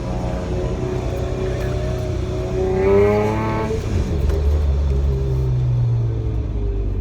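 A supercharged Acura TL runs an autocross course at Low Key Autocross in Pittsburgh, its engine droning and rising in pitch as it accelerates, then dropping back, loud and close with a constant rumble.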